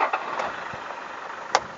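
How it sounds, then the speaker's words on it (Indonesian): A Toyota Kijang Innova V with the D4D 2KD diesel engine starts and settles into a steady, fairly quiet idle hum, with a couple of sharp clicks near the start and end. "tak hidupkan dulu mesinnya."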